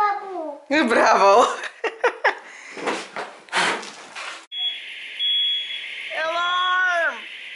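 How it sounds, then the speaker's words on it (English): Smoke alarm set off by birthday candles at a home party sounds a steady high-pitched tone partway through, amid laughter, excited voices and chatter. "Alarm! We are on fire!"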